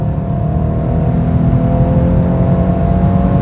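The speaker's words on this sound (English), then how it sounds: "First time flooring this car, and I am so surprised." A 2021 BMW 430i coupe in sport mode accelerates at full throttle, heard from inside the cabin as a loud, steady, rising engine drone with road noise and no talking.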